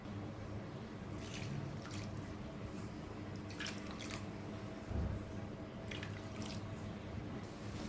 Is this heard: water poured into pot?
yes